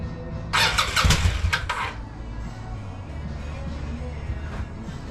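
A 1996 Kawasaki Vulcan 800 motorcycle engine cranks in a brief loud burst of whirring starter noise, then fades to a lower, rough idle-like rumble.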